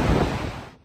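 Strong hurricane wind roaring in Sarasota during Hurricane Milton, a loud broadband rush that buffets the microphone and then cuts off abruptly.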